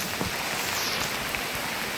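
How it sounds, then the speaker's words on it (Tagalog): Heavy rain pours down near a cave in Apayao, a dense, steady hiss of drops on surfaces with scattered louder splashes, filling the whole moment with no voices. "Lumakas ang ulan."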